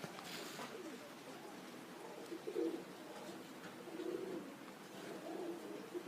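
Modoc pigeons coo softly in a loft, a few low repeated coos with light fluttering and faint background noise.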